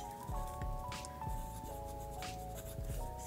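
A Ferris Wheel Press fountain pen scratches across paper in short, close strokes, soft scritching marks repeating in quick bursts with no voice.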